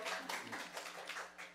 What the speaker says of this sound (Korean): 좀 따뜻한 박수로 맞이해 주시면 감사드리겠습니다